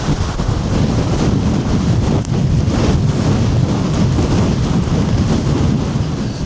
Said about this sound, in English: It's not really a day for hanging about with this wind.